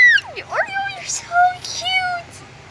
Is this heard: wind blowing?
no